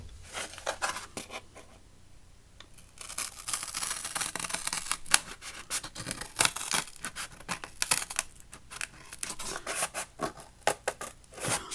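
Paper cut with scissors for an autumn journaling card, a run of close, crisp snips and rustles with brief pauses, no talking over it.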